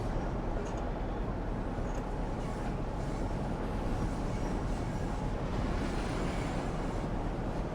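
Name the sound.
train running in video game Train Sim World 2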